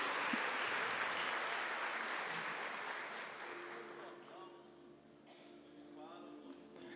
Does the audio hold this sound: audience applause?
yes